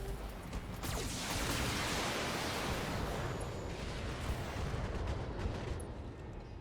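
In BattleTech, a mech's whole weapon loadout fires at once: a broad rushing roar of volleys and impacts that swells and then gradually fades, heard alone without talk.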